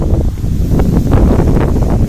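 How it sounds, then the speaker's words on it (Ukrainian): Strong wind at a pond while fishing from the bank, blowing as a loud, steady rush with buffeting on the microphone and a few rustling bursts, no voices. "Вітер дує так, що хай Бог милує."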